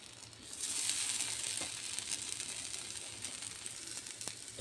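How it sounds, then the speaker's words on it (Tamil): Yam slices fry in a thin film of oil on a tawa, giving a soft, steady sizzle with occasional faint crackles and small clicks of a utensil. "தவாவில் லைட்டாக எண்ணெயை விட்டு பேட்சாக வறுத்து எடுத்துக்கலாம்."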